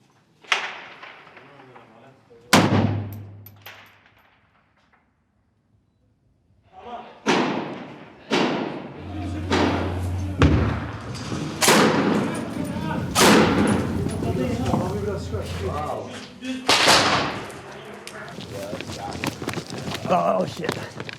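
Sharp gunshots ring out close by during urban combat in Raqqa, Syria, a string of loud, abrupt bangs and thuds spread across the stretch, with voices talking and shouting between them.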